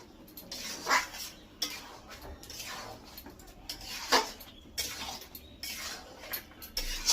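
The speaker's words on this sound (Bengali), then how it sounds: "এখন এই মাংসের মধ্যে ধনে পাতাটা দিয়ে দেবো। দিয়ে নেড়ে নিচ্ছি।" A spoon scraping and clanking in a pot as ground coriander paste is stirred into chicken, with repeated metallic strokes in an uneven rhythm and a faint sizzle beneath.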